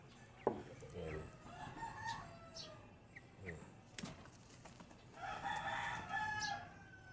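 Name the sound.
fighting roosters crowing and clucking at feeding time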